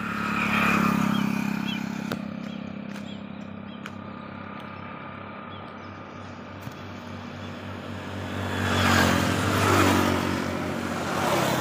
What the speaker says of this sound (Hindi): ये अच्छे से व्हीकल जा रहे हैं इधर से उधर